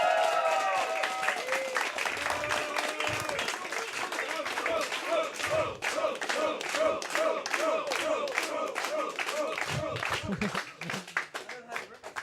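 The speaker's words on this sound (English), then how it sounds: "So I think that makes also deserves a round of applause for crew." Audience at a closing event giving a sustained round of applause with scattered cheers and whoops, dense clapping that stays loud throughout and thins slightly near the end.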